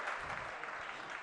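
Brief, soft applause from an audience at a spiritual discourse in Shirpur, Maharashtra: a steady patter of clapping that lasts just over a second.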